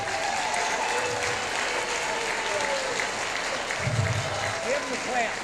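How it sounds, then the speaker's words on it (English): At a beach shag dance hall of fame gathering, a crowd applauds continuously, a fairly distant, even wash of clapping with faint voices underneath. "Give them a hand."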